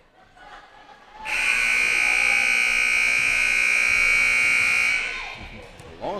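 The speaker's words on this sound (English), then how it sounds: "Long buzzer there from the scorekeepers." At a girls' JV high school volleyball game, the scorekeepers' buzzer sounds one long, loud, steady tone lasting almost four seconds, with a hum of gym background before and after.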